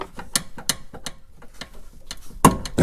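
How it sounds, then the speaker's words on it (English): Plastic radiator clips on a GM truck or SUV radiator snap into place, a series of sharp close clicks and rattling ratchet-like ticks, ending in one louder firm snap, with no talking. "you can hear them clip in"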